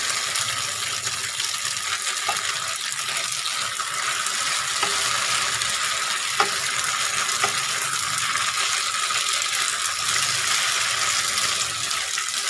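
Wide rice noodles stir-fry in a hot pan with a steady, bright sizzle, broken by a few light clinks of a utensil scraping the pan. No one speaks.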